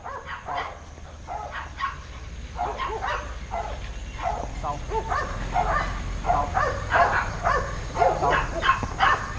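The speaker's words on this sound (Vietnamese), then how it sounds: "một con chú chó Malinois của một người khách gửi" Malinois dog at a training center, barking and yipping repeatedly in fast, excited bursts close by, with whimpering between barks and some faint background voices.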